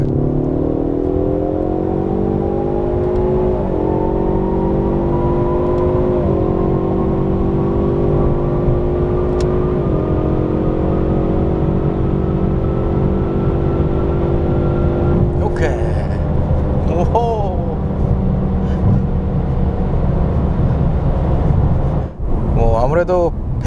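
A Ford Mustang 5.0 GT V8 engine revs and climbs steadily through the gears in a tunnel, echoing, with brief pauses between shifts and a roar near the end.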